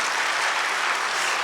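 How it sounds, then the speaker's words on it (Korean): A church congregation applauds during a Sunday worship service, a brief, even spread of clapping from many hands with no voices over it. "박수 한번 하셔도 될 것 같아요"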